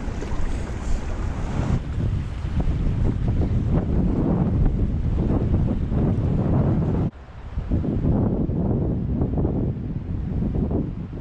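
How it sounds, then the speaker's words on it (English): Strong wind roars across a boat on the Ohio River near an old dam, buffeting the microphone in loud, continuous gusts, with a brief dip before the blustering resumes. "This wind is insane, but hopefully it'll die down later on tonight."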